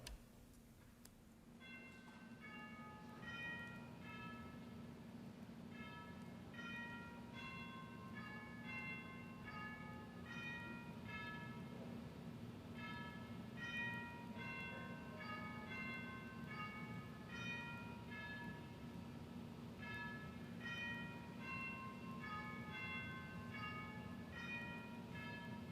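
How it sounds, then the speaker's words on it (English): Memorial chimes ring in the Colorado Senate chamber as a repeated sequence of clear bell tones in a slow, regular pattern over a constant low room hum, moderately distant and without speech. "The Senate will observe a moment of silence as the Senate chimes are rung as a memorial."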